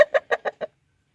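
A rooster gives five short, quick clucks in a close, clear burst, then falls silent.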